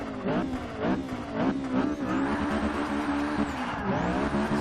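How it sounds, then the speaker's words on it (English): A 2014 Honda Civic Si launches hard in Forza 6, its engine wailing as it revs up through the gears. The tires squeal and spin on the way, and the car stays loud and close throughout. "Let's get inside and do a little bit of a launch here."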